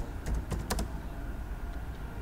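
Someone types on a computer keyboard in a brief quick run of a few clicks and then stops, leaving a low background hum and no speech.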